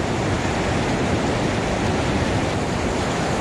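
A river waterfall rushes nearby with a dense, constant roar of falling water, loud and unbroken throughout.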